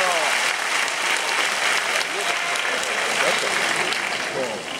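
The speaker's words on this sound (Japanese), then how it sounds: "井岡一翔選手、もう一度大きな拍手をお願いいたします。" A crowd at a boxing event gives steady, sustained applause for boxer Kazuto Ioka. The dense patter of many hands holds an even level for several seconds.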